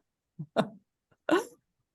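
An excited puppy gives a few short, sharp yips and squeaky barks in quick bursts, close by and fairly faint, against an otherwise quiet background.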